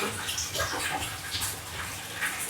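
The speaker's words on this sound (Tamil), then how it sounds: "தண்ணி நிறைஞ்சிடும்." Water pours into a tub in a steady, splashing rush that stays fairly loud and even throughout, with bubbling churn and no voices.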